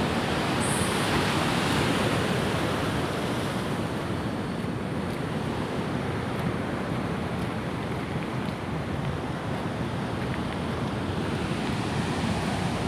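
Big ocean waves break on the shore in a continuous, loud wash of surf, heard close with some wind buffeting and no talk.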